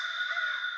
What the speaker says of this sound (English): it was that little crow sound that we had earlier